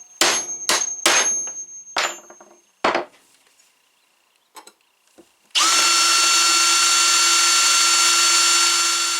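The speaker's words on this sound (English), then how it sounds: "All I'm going to do is drill out these holes to the middle." A drill bores holes in a wooden decoy: a few sharp knocks and handling sounds first, then the drill spins up and runs loud and steady close by.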